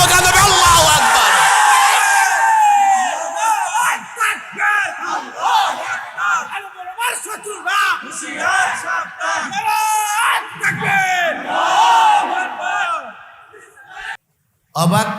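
A crowd loudly chanting the slogan Allahu Akbar, with rhythmic, rising and falling group shouts close up that fill nearly the whole stretch before a brief drop near the end.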